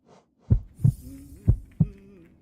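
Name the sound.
heartbeat sound in a video game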